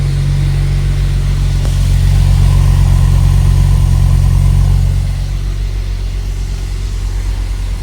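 A BMW E34 525i wagon with a stock exhaust idles close by, a loud, steady, smooth low rumble that swells slightly for a moment before settling back to an even idle.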